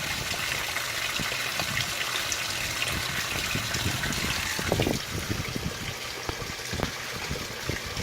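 A Speed Queen washing machine fills with water for the rinse of a large load of flannel sheets, giving a steady, continuous rush and trickle of water with a few faint clunks.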